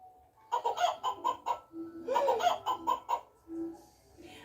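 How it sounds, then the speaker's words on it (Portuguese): Chicken clucking from a toy comes in two quick bursts of short, rhythmic clucks, close and fairly quiet, with a brief pause between the bursts. "galinha. Cocococó, cocococó."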